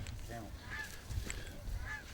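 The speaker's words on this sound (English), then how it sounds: "I see a lot of birds coming back." Geese honk repeatedly as a flock returns over a hunting spot, several overlapping calls at moderate distance, fairly faint over a low background rumble.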